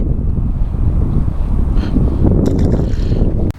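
Wind blowing across a lake during a fishing outing, a steady loud roar buffeting the microphone throughout, with a few faint clicks near the end.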